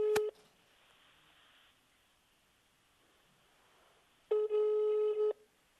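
A brief beep, then a long quiet hiss, then a steady telephone ringing tone for about a second near the end, as a phone call is dialed on speakerphone.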